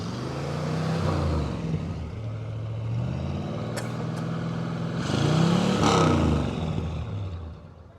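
A Chevy Caprice Classic convertible's engine revs hard up and down several times, a deep rising and falling roar that swells at the start and again near the end, close and loud, with no talking.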